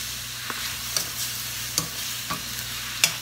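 Beef stir-frying with tomato and green onion in a hot pan: a constant sizzle under a low hum, broken by several sharp spatula scrapes and clanks at irregular intervals, close and loud, with no talking.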